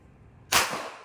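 A single sharp gunshot cracks out at a proficiency firing range, sudden and loud after near silence, with a short decaying tail.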